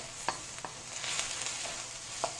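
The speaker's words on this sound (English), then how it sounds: "just keep stirring it" Red bean curry stirred in a pan, a soft bubbling sizzle with a few light spoon taps against the pan, quiet and close.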